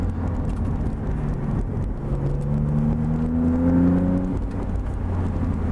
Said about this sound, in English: you can hear the turbo with the roof off